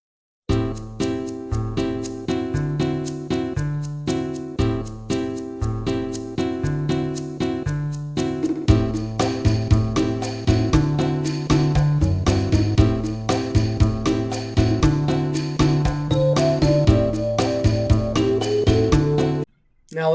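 A theme from Final Fantasy VII plays for about twenty seconds, an upbeat tune with a bouncy rhythmic bass and bright melodic lines, loud and continuous, cutting off abruptly at the end.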